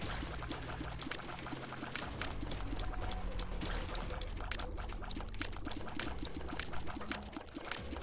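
Water pours and trickles steadily within The Binding of Isaac: Repentance gameplay, mixed with dense game effects and chiming tones throughout the loud, busy stretch.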